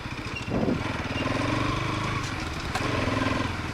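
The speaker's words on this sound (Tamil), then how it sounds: "ஸோ ஆக்சுவலாக பார்த்தீங்கன்னா வண்டி சவுண்டு வேறு மாதிரி செம்மையாக இருக்குது சீரியஸாக." A 2024 Bajaj Pulsar NS 200 motorcycle engine idles steadily close by, a loud even throb with a brief rev near the start and a small blip later, with no talk over it.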